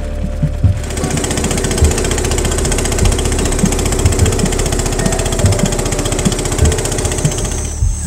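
A small motorboat's engine drones on an Amazon river at evening, starting after a brief moment and then running as a loud, steady, rapidly pulsing hum close by.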